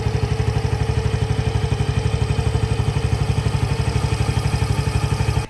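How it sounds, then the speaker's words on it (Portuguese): A motorcycle engine idles steadily with the rider's helmet off during a weekly check, its fast, even low thumping pulse running unbroken for about five seconds before cutting off abruptly. "já aproveita que o motor está ligado para você ouvir o ruído do motor sem o capacete"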